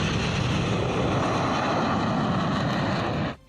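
An Indian Air Force Hercules military transport aircraft lands on and takes off from the Purvanchal Expressway. Its engines make a loud, steady, close roar that holds for about three seconds and then cuts off abruptly.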